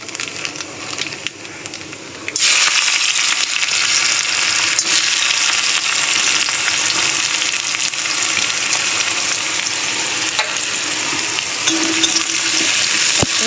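Nigella seeds (kalo jeera) hit hot oil in a wok while a spicy small-fish curry with tomato and onion is being made. The sizzle bursts up suddenly, then holds as a loud, steady, close crackle.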